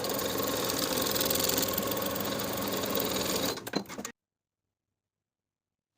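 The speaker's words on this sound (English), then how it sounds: "we're going to understitch the pocket lining by sewing on the lining side about 1/8 of an inch away from the original seam line" A sewing machine understitches a pocket lining for pull-on pants, running at a fast, steady hum for about four seconds before slowing with a few clicks and falling silent.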